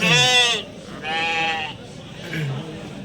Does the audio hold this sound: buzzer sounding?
no